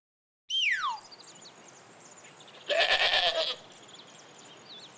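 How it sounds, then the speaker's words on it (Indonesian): An animated cartoon goat bleats twice, a short falling cry followed by a longer wavering bleat, both clear and close over faint background hiss, with no talking. "suara kambing mirip dengan suara domba ya teman-teman"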